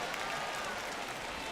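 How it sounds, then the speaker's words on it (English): Stadium crowd noise from a baseball video game simulation of Mets versus Cardinals in the ninth inning, a steady broadband roar of cheering and applause sustained throughout without pause. "Crowd locked in right now."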